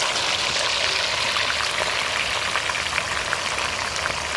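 Marinated meat pieces dropped into hot oil, giving a dense, continuous crackling sizzle with fine pops, close and steady for the whole stretch.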